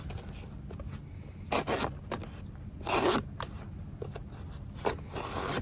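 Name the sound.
carbon steel knife cutting thin cardboard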